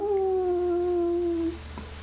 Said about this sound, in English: you hear a long howl